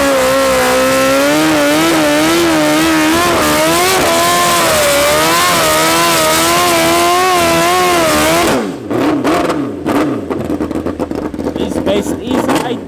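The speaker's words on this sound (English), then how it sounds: "Up next we've got Cobus, currently the second fastest aspirated bike in Africa." A naturally aspirated drag racing motorcycle screams down the quarter mile at a club event at Tarlton International Raceway. The engine wails loud and close, climbs through several gears, then drops away as background noise and chatter take over.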